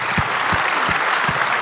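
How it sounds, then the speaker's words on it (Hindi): Audience applause for staff members at the Republic Plenary Summit 2025 in India, a dense, loud roar of clapping throughout, with a few low thumps at regular intervals underneath. "एक जोरदार तालियां उन कर्मचारियों के लिए"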